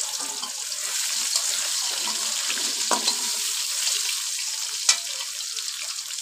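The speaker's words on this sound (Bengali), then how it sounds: "আলু ভাজানো," Potatoes frying in oil left over from frying fish, a continuous soft sizzling hiss with occasional faint pops and one sharp crackle, steady and close.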